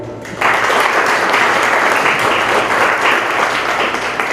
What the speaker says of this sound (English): So we can give Prabhu a nice round of applause.